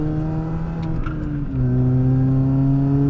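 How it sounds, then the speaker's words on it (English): A Mini Cooper S drives along with a steady, droning engine tone, heard from inside, that shifts to a lower, louder pitch midway as the gear or speed changes, no voices. "I'm getting paid to drive around in a Mini Cooper S"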